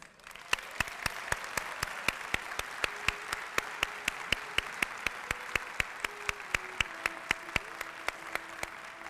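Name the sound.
audience applause at awards luncheon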